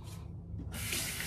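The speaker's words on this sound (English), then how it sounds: "I'll do about 30 swirls or so in that foam" A shaving brush swirls Aurelius shaving cream from Elysian Soap Shop into a lather, making a dense, wet, frothy swishing that briefly dips and then grows louder and continuous, with no voices.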